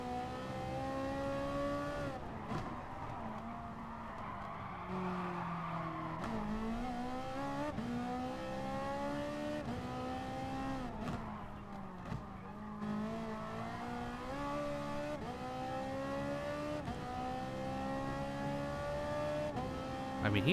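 Race car in Gran Turismo Sport screaming at high speed, engine note climbing and dropping through repeated gear shifts with occasional tire squeal, loud and continuous throughout.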